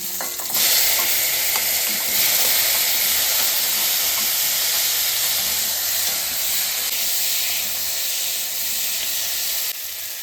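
Boiled potatoes fry in a little leftover fish-frying oil, giving a loud, continuous close hiss and crackle that holds steady for several seconds before cutting off abruptly.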